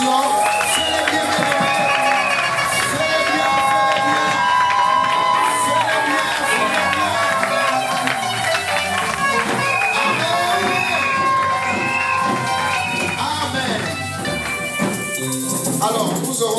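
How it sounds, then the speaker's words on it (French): A church congregation cheers and acclaims loudly and continuously, shouting and whooping together amid music and voices. "on va célébrer Dieu par nos acclamations"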